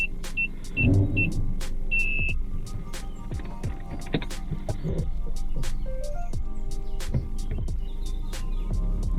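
A car rolling slowly during a steering demonstration, low engine rumble and faint mechanical clicks and ticks, fairly quiet and steady with no talk.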